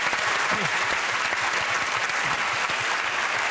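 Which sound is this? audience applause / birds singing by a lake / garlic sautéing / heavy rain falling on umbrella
audience applause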